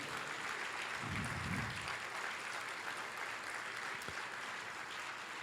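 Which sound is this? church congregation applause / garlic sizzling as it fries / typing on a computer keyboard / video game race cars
church congregation applause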